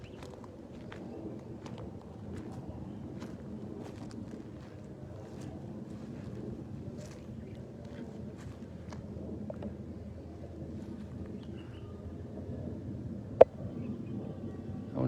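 A boat out on open water under steady wind rumble, with faint scattered knocks and clicks and one sharp tap near the end; no talk.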